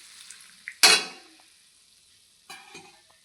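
Water splashes into a pan of frying taro flowers with a sudden loud hiss that fades over about a second, followed by a spatula scraping and stirring close by.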